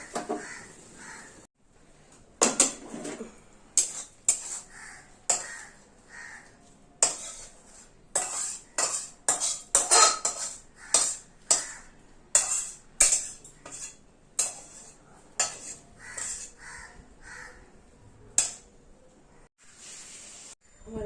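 Pots and metal utensils clatter and clink in a home kitchen during cooking, in short repeated bursts with brief pauses. Crows caw now and then in the background.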